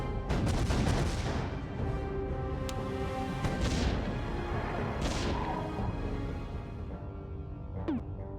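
Cannons fire in the tower-defense video game Defense Grid: The Awakening, a dense, continuous wash of booming shots and impacts layered over game noise at moderate loudness, without speech.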